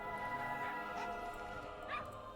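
Dogs bark and yip in a dog cafe inside the World of Warcraft video game, with a few short, mid-level yelps spread across a steady background of game ambience.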